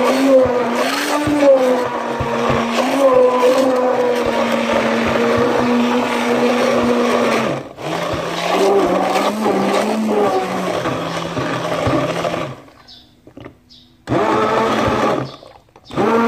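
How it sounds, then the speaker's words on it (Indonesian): A hand blender whirs loudly as it mixes water and brown sugar for a homemade probiotic, a steady motor hum that dips once midway, then cuts out and restarts near the end. "So, ayun guys, i-hand blender na natin."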